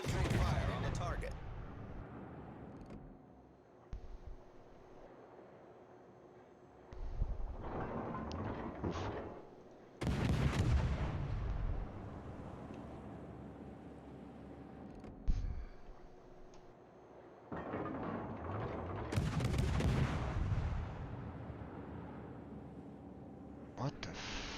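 Warship guns fire in World of Warships, heavy booming salvos separated by quieter stretches of ambient ship noise and ticking, with a voice talking between the blasts.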